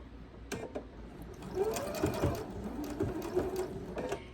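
A sewing machine runs in short bursts and then a steady run of rapid stitches while sewing binding onto a quilt, its needle clatter close and even with a faint motor whine.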